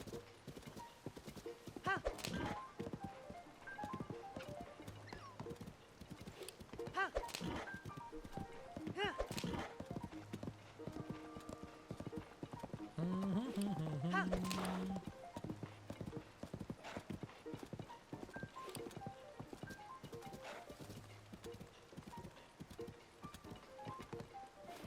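Horses trotting in Zelda: Tears of the Kingdom, a steady clip-clop of hooves with occasional whinnies, heard under someone talking over the game.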